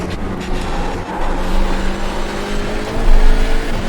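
Hyundai Elantra race cars in iRacing lapping Oulton Park, engines droning steadily at mid volume with a layered hum of several cars close together, rising slightly toward the end.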